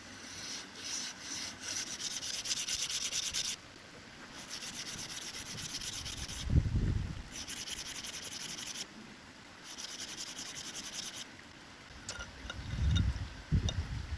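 A slate arrowhead edge is ground on the finer side of an abrasive stone in repeated rhythmic rubbing strokes, several runs with short pauses and a few low knocks, close and fairly quiet.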